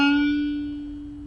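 A single plucked guitar note bent up to a D, ringing out and shifting slightly in pitch as it sustains, then slowly fading; quiet and alone.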